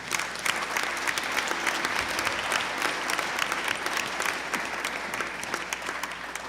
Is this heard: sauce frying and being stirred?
no